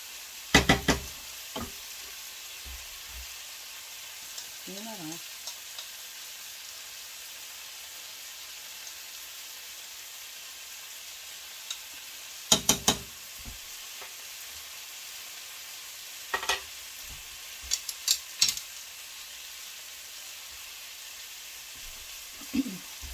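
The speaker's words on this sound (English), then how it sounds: "Use a flat spoon to make sure I'm getting my beef nicely charred" Beef and rice for Guyanese cook-up rice sizzle quietly in a pot as a flat spoon is used to char the beef, with a soft continuous fry broken by occasional sharp scrapes and knocks against the pan.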